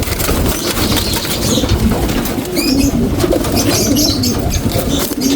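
Pigeons coo in a low, repeated murmur amid a noisy flock, with scattered chirps and a steady hiss of activity throughout.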